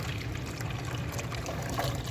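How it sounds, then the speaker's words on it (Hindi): Water trickles and pours steadily into a container, a continuous low splashing stream with no voices. "तो जी पानी शानी डाल दिया है।"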